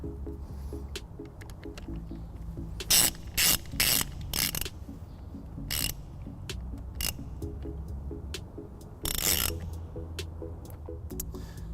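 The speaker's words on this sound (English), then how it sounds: "Now we can tighten it back down." A ratchet tightens a bolt during trailer wiring work on a 2010 Dodge Grand Caravan, several quick bursts of sharp clicking separated by pauses over faint background hum.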